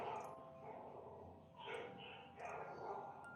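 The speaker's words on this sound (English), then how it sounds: "Dogs are barking." Dogs barking outside at night, faint and distant, a few muffled barks rising in two bursts over a steady hum of room noise.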